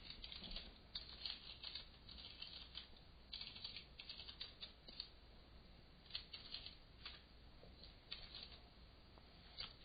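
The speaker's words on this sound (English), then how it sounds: "I'll click somewhere in the page header band and begin typing." Faint typing on a computer keyboard while entering a report header in Visual FoxPro, irregular bursts of light key clicks with short pauses across the whole stretch, no voices.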